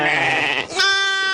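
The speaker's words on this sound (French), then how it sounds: "c'est un frère de Moa qui s'occupe des moutons avec Aïcha, sa femme" Sheep in a flock tended by Aït Atta herders bleat up close, one long wavering cry followed by a second higher, strongly voiced bleat, loud and clear with no talk.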